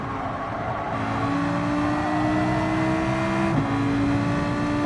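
A race car in Gran Turismo 7 launches from the start, its engine revving loud and steady with a rising pitched whine, close and continuous, with no talking.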